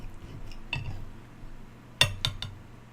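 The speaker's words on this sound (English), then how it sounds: "I'm just quickly eating a bit more food." Metal cutlery clinks against dishes during a quick meal, a few sharp scattered taps and a tight cluster of clinks, close but fairly soft over a quiet room.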